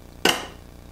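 A steel wrench snapping onto a horseshoe magnet, heard as a single sharp metallic clack, close and fairly loud, with a quick decay and no talking.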